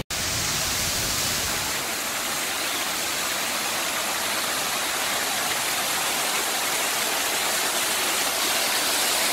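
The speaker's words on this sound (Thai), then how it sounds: "มันมีทั้งน้ำพุแล้วก็แบบพวกน้ำตกจำลองอะค่ะอยู่ด้านหน้าเดี๋ยวพาไปดู" Water from an artificial waterfall and fountain in Kowloon Park, Hong Kong, pours in a loud, steady rushing hiss that fills the whole stretch without a break.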